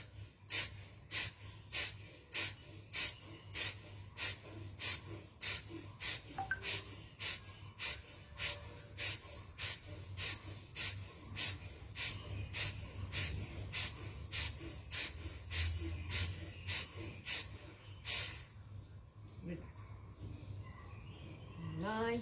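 Rhythmic yoga breathing exercise: forceful, evenly paced exhalations pulse about once a second for most of the stretch, then stop, leaving quiet room sound with faint chirps.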